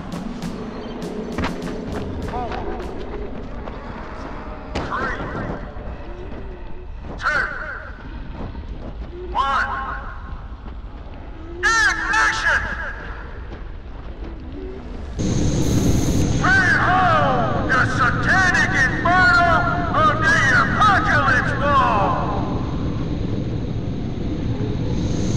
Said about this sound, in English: a feast of controlled pyro combustion